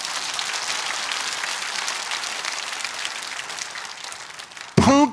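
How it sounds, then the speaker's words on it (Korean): A rally crowd in Pyeongtaek gives a round of applause that gradually fades, cut off at the end by a sudden loud voice. "여러분 나가셨지만 이 노력한 분들에 대해서 큰 박수 한번 해주시기 바랍니다"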